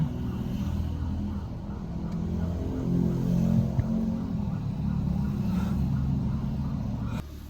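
Traffic jam on the road during a trip to Dehradun, with a steady, loud rumble of idling and slowly moving vehicles heard from inside or beside a car, continuous throughout with faint passing noises.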